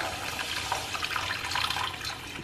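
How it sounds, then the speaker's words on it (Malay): Tamarind water pours steadily into a cooking pot for asam pedas, a continuous splashing liquid rush with no break and no voices. "kemudian kita akan masukkan air asam jawa"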